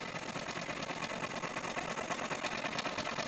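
An embroidery machine stitching out a fall design, running with a fast, steady mechanical chatter of rapid needle strokes, loud and close, unbroken throughout with no talking.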